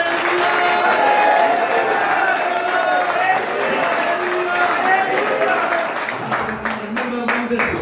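A church congregation clapping along while shouting hallelujah, a dense roar of voices and hands in a large room, thinning out near the end.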